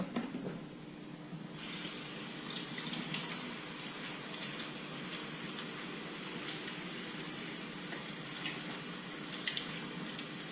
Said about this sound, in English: I am going to do the most important step, which is once again washing your hands